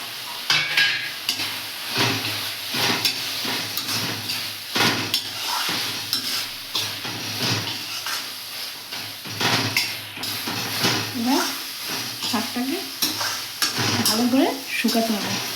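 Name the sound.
prawns frying and being stirred with red amaranth greens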